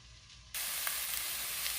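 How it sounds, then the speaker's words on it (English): A loud, steady sizzle of vegetables frying in a hot pan starts abruptly after a quiet moment and continues evenly, with faint stirring clicks. "You want to hear that sizzle"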